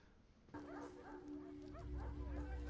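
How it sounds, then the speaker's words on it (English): Dogs in a Game of Thrones scene barking and yipping at a distance, faint under a sustained tonal hum, the barks short and scattered across the moment. "Them dogs."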